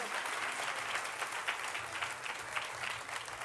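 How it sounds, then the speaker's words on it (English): An audience at a women's awards gala gives the arts finalists a round of applause, a dense, steady wash of many hands clapping from across the room, continuous for several seconds. "a round of applause for our arts finalists"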